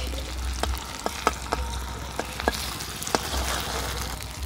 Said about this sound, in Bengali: এর সাথে দিয়ে দেব টমেটো কুচি। খুব ভালো করে ভেজে নেব।